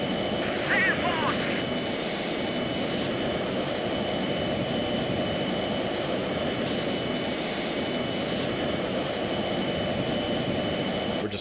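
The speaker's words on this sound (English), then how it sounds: "We're just coming by firewalled throttle with the speed brake open." Roaring A-4 jet engine at full throttle in the Strike Fighters 2 flight game, with the speed brake open; a loud, steady broadband rumble runs unbroken through the whole stretch, with faint voice traces over it.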